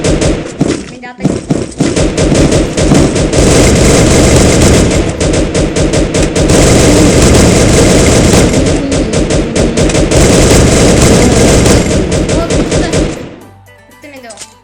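Sustained gunfire from the Free Fire battle royale game, shotgun-focused play, with dense rapid shots and impacts filling most of the stretch, loud and continuous before cutting off near the end, with some talk mixed in.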